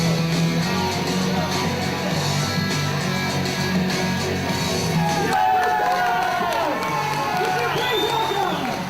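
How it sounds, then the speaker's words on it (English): A wrestling arena crowd at a Frontier Wrestling show erupts into loud, sustained cheering and whooping that fills the whole stretch, with shouting voices rising above the roar. "The crowd get on their feet, the crowd rejoice."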